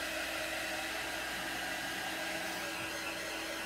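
A hair dryer blows steadily up close, a constant loud whooshing roar with a motor whine that never lets up.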